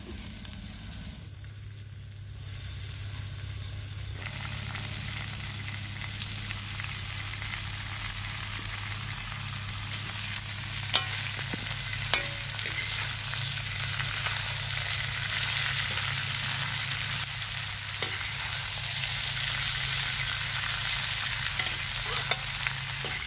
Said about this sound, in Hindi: अब हम टिंडों को भून लेते हैं